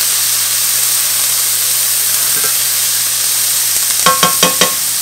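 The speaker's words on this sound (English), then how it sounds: "take 1 tablespoon of your garlic and we're just going to cook it for another minute" Chopped garlic cooks in a pan with onions and jalapenos, giving a steady, even sizzle with a constant hiss. Near the end a few quick stirring scrapes sound close by, and no one speaks.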